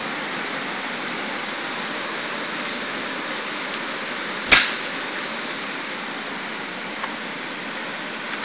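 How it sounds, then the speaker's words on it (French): Steady outdoor rain hisses throughout, a broad even wash broken once by a single sharp crack from a spring-powered FAMAS G1 airsoft rifle partway through, and a few faint ticks later. "Désolé, il pleut encore, hein."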